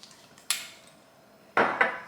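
Pumpkin cake batter beaten in a bowl, with a few sharp clattering knocks of the utensil against the bowl, one single hit and then a quick double hit, over a quiet background.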